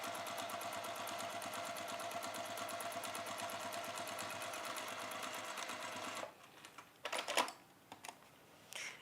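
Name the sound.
sewing machine top stitching a washbag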